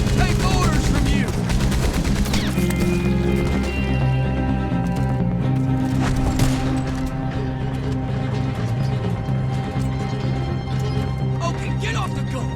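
Gunfire in Red Dead Redemption 2, rapid bursts of shots over pounding horse hooves and rolling carriage noise, loud and continuous, with shouted voices mixed in.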